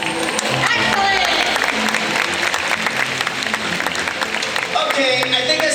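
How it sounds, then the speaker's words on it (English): Audience applause fills the stands at a SeaWorld Orlando orca show, steady and loud clapping with cheering throughout, while a presenter's voice talks over it. "we're going to give him a round of applause"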